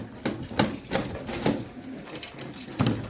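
Pigeons coo nearby in a series of about six soft, throaty bursts spaced irregularly, fairly faint and heard alone without talk.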